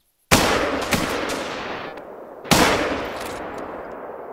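Two sharp, loud hunting-rifle shots in theHunter: Call of the Wild, each followed by a long rolling echo tail, a couple of seconds apart.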